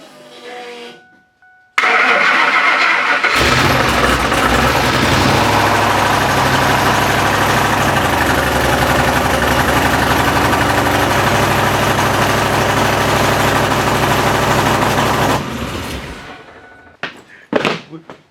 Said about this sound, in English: We just started the freaking truck. It sounds amazing.